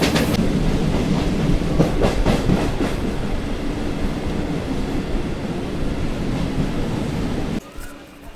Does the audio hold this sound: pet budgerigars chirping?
no